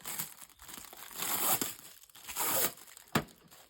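Protective plastic film is pried and peeled off a Husqvarna LB 144i battery robotic lawnmower, giving several seconds of close, steady crinkling and tearing crackle with a sharp snap near the end.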